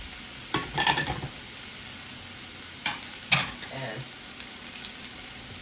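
Salted cod frying in a pan for Jamaican ackee and saltfish, stirred with a spatula that scrapes in a few short bursts over a low, steady sizzle, fairly close and moderately quiet.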